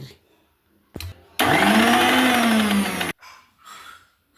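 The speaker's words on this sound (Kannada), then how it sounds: "ತರಿ ತರಿಯಾಗಿ ರುಬ್ಕೋಬೇಕ್ರಿ" A mixer grinder whirs loudly for under two seconds, coarsely grinding spices including coriander seeds, its motor pitch rising then falling, with faint sounds before and after.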